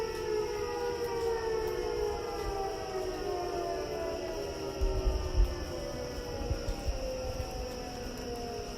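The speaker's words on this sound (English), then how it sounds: "The tornado sirens just went off." Tornado warning sirens wailing steadily across town, a sustained rising and falling drone with layered tones over a low rumble of wind.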